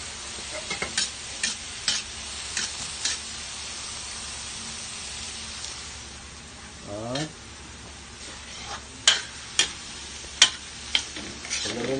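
Bacon fries in a pan for pork batchoy, a continuous hiss and sizzle with a string of sharp ticks and spatula taps, plus a brief louder scrape partway through.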